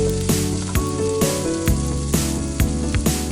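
Cumin seeds sizzle in a miniature pan, a steady close crackling fry broken every half second or so by short stirring scrapes, with no talk.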